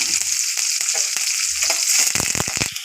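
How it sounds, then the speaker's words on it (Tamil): Mustard seeds, onion, green chili and curry leaves fry in hot oil for a South Indian kuzhambu, a steady close sizzle broken by short spoon scrapes that quicken toward the end. "கடுகு ஆட் பண்ணுறேன் வெங்காயம் பச்சை மிளகாய் கருவேப்பிலை ஆட் பண்ணிவிட்டேன்"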